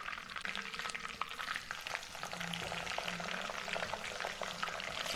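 Cauliflower pieces frying in hot oil, a steady close sizzle and bubbling with occasional stirring scrapes, going on without any talk.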